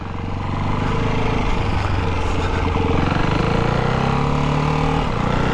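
Single-cylinder Ducati 698 Hypermotard engine running steadily with a close, throbbing mid-pitched drone and layered harmonics, holding constant for several seconds with no voices.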